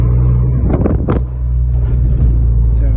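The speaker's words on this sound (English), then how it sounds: "Damn, this thing sounds way better." A Volkswagen Jetta wagon fitted with a new exhaust drones with a loud, low, steady engine rumble, heard from close by with a little wind buffeting and a brief burst of noise near the start.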